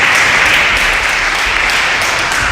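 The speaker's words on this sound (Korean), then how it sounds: "한번 박수로 우리 환영하도록 하겠습니다" A church congregation claps to welcome visiting members, a loud, sustained burst of applause filling the room with no pauses.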